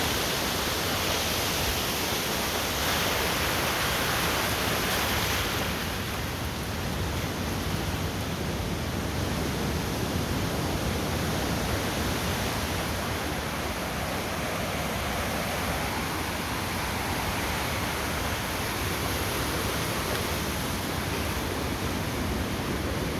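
Sea waves wash steadily onto a sandy beach on the Bay of Bengal, a continuous broadband surf roar with wind, close and loud throughout, with no voices.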